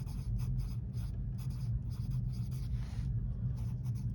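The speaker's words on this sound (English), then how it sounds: "markers on wax paper" Markers scratch and squeak across wax paper in quick repeated strokes, close up and fairly quiet over a constant low hum.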